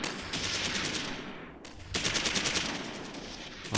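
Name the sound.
gunfire from video game Close Combat 3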